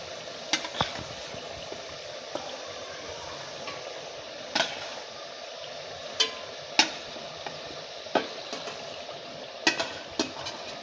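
Fish pieces frying in a spice masala for fish curry, a steady soft sizzle with occasional sharp clicks and scrapes of a spoon gently stirring, close and alone without talk.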